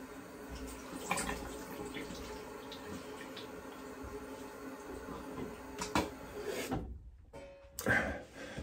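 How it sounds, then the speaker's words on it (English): Running water rinsing during a traditional wet shave, a steady splashing wash at close range that breaks into brief pauses and a few louder splashes near the end, with no talking. "Just gonna do a quick rinse."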